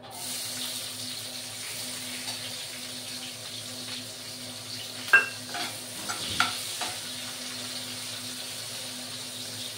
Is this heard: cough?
no